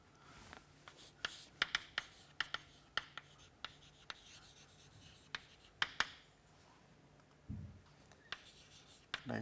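Marker or chalk scratching and tapping on a board while a diagram of light diffracting at an edge is drawn, with quick strokes and sharp taps in an irregular rhythm, close and fairly quiet, with no talking.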